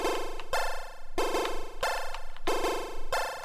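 Chiptune chords arpeggiated on a Dirtywave M8 tracker, with buzzy, rapidly stepping tones in repeated bursts at a moderate level and no talking.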